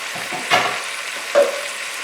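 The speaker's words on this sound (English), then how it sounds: "as soon as I saute all of this for a few minutes" Ingredients for a pork and black bean stew sauté in a pot with a soft, steady hiss. Two brief utensil knocks or scrapes stand out, and nobody speaks.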